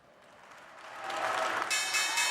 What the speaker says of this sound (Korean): 뉴욕 증시 객장에 박수 소리가 울려 퍼집니다.